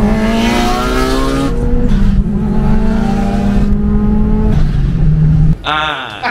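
Car engine revving hard as the throttle is pushed, a sustained loud rising and falling drone on a Japanese street-racing run, ending with a sharp high rev burst near the end.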